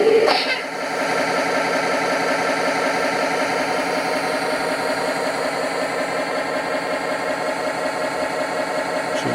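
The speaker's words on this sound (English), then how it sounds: "So here's a little demonstration of the startup of the Tatra 815. You'll see the shaker weight here. This is what gives it the rough diesel idle." An RC Tatra 815 8x8 truck model starting up, its shaker weight giving a rough simulated diesel idle: a brief startup burst, then a loud, steady, throbbing rumble with a fine rapid rattle, close and continuous.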